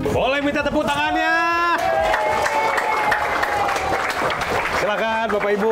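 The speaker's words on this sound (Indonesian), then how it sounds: "Minta tepuk tangannya." Clapping and cheering from a studio audience at a home-renovation giveaway show, dense and sustained throughout under loud music with sung or spoken voices on top.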